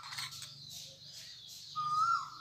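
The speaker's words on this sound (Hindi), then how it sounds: "कोयल, कितनी प्यारी कोयल भी बोल रही है ऊपर।" An Asian koel calls from up in a tree in a village during a wedding gathering: a faint, distant whistled note that rises at the end, over a low background hum.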